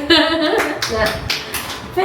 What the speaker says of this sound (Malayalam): വീണ്ടും കൈയടിക്ക് കൈയടിക്ക്